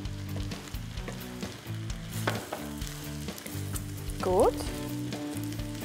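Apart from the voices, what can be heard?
cabbage frying in a pan with vinegar and butter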